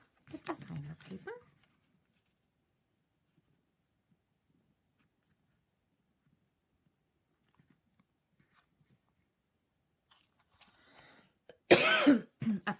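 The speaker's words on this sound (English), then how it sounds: "Apologize for the coughing, but I'm just getting over a wicked cold." A person recovering from a bad cold coughs and clears their throat, a short burst at the start and a louder, harsher cough near the end, separated by long quiet stretches during a card-stamping demo.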